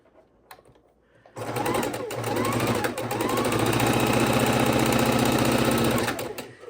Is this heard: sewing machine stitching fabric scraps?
yes